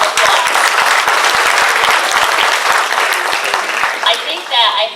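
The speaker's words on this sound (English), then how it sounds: "Let's give yourselves a round of applause." A room full of award dinner guests breaks into loud, sustained clapping that stays dense and close for several seconds, with a few cheering voices rising near the end.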